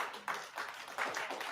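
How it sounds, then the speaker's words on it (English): A few soft, slow, evenly spaced claps of a polite golf clap in a classroom, faint and close with no other sound around them. "Golf clap for you."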